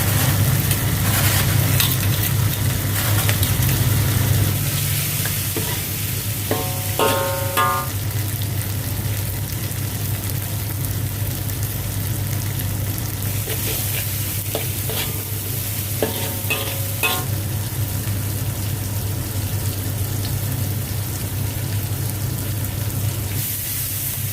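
Chili and onion fry in a pan with a continuous loud sizzle, broken by a couple of short scraping stirs against the pan, all close up, with no talking.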